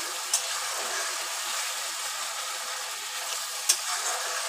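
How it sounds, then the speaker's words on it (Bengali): Spice masala for a vegetarian carrot kofta curry with chickpeas frying gently in oil over low heat, a steady soft sizzle with two brief scrapes of the stirring spoon, and no talk. "আস্তে আস্তে আঁচ দিয়ে দিয়ে ভালো করে নেড়ে নেড়ে মশলাটাকে আমি কষিয়ে নিয়েছি"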